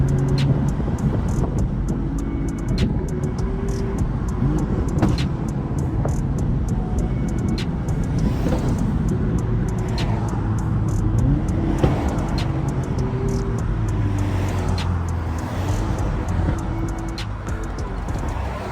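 A BMW with an N55 engine running flex fuel and a new aftermarket intake pulls hard, its engine drone rising and falling in pitch from inside the moving car, with no talking.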